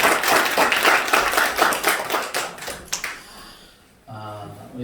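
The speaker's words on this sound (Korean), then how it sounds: "우리 하나님께 영광의 박수 올려드립니다" A church congregation claps together during a Sunday worship service, a dense wash of overlapping hand claps that fades out after about three seconds, followed by a quieter tonal passage.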